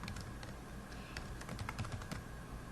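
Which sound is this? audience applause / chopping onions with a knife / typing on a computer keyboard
typing on a computer keyboard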